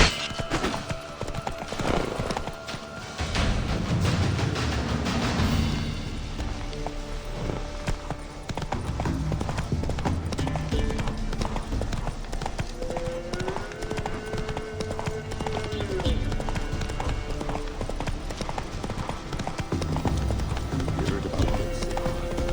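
Hooves of a horse galloping at a steady clip-clop rhythm in The Witcher 3, loud and continuous, layered over game music and ambience with no talk.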